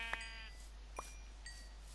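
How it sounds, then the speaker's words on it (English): Three short synthetic sheep bleats from Minecraft 1.18 play out at intervals over a quiet steady hum, each one brief and fairly faint, with no talking. "we may have killed quite a few sheep, and we're going to kill some more."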